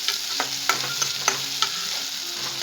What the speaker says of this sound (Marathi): जिरं, मोहरी, त्यानंतरून लसूण, कांदा, सगळं व्यवस्थित टाकून त्यांना गोल्डन कलर येतो तोपर्यंत त्यामध्ये फ्राय करायचं.